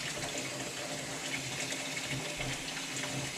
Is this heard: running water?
yes